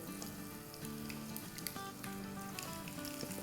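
Mustard seeds and cumin seeds crackling in hot oil, a faint continuous sizzle dotted with small pops and ticks, heard alone without any talking.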